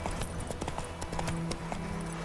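Horse hooves clip-clop at a steady walking pace in The Witcher 3 video game, close and even over a constant low ambient background.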